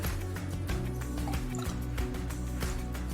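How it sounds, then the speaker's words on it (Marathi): Water from two glasses is poured over washed cracked wheat in a pot, a continuous close splashing, filling gush lasting a few seconds without talk. "त्यात आपण 2 ग्लास पाणी घालणार आहे"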